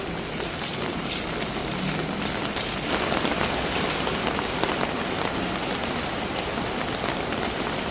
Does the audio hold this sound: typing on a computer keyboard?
no